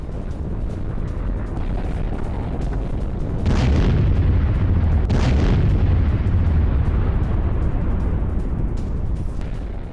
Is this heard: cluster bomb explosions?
yes